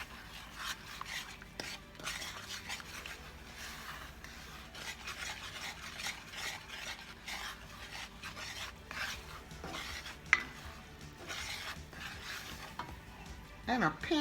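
A spoon scrapes and swirls through an apple pie filling in a pan, a continuous rubbing, slightly sizzly texture with irregular strokes, close by and fairly quiet, with no one talking.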